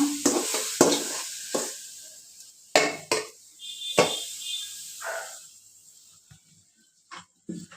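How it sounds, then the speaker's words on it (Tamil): Beetroot mixture stirred into dosa batter in a kitchen, giving a few short wet scraping and sloshing strokes at irregular intervals, fairly close and moderately loud, with quiet pauses between them. "இது மாதிரி போட்டு நல்லா கலந்து விட்டுக்கோங்க"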